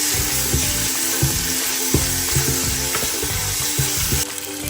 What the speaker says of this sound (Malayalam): അത് നന്നായിട്ട് ഇളക്കി യോജിപ്പിക്കുക.